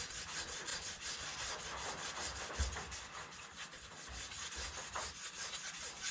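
Motorcycle brake caliper pistons are scrubbed clean by hand, a faint, rhythmic back-and-forth rubbing that repeats in quick regular strokes.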